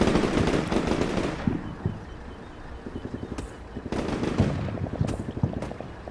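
Machine gun fire crackles in the video game Combat Mission Shock Force 2 as sustained rapid bursts over a rumbling background, with a short lull and then further loud volleys and sharp single reports.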